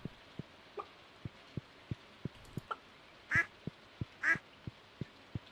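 Ducks quacking in a farming video game, two loud quacks standing out over a steady rhythm of soft ticking game sounds, with no talking.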